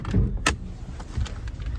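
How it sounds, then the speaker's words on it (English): A Nissan Maxima SL hood is released with a couple of quick, close mechanical clunks and latch clicks over a low rumbling background, with no talking. "let me pop the trunk for you guys, or the hood"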